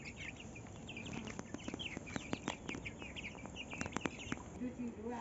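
Hens and roosters feeding on scattered grain in a village yard give short, irregular clucks and chirps, close and fairly quiet, with some human voice sound mixed in.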